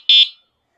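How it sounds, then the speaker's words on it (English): A single short, piercing electronic horn beep from an Emove Cruiser V2 AWD 60V electric scooter, loud and close, lasting a fraction of a second before silence. "So when you push the horn button, it sounds like this."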